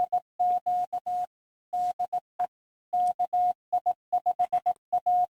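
Morse code sent as a CQ call on the morsewalker.com practice site: a clean, steady tone keyed in crisp dits and dahs, loud and alone with silent gaps between letters.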